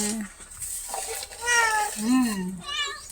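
Pet cats at home meow near the listener, a run of several rising, wavering cries one after another, fairly loud and close.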